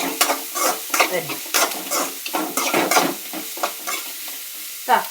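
Carrots and onion are stirred in a frying pan, with repeated scraping strokes of a spoon over a soft sizzle, close and fairly loud.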